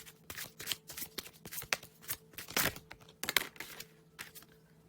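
A tarot deck is shuffled by hand up close, giving quiet, crisp bursts of riffling and flicking card edges in an uneven rhythm with short pauses between.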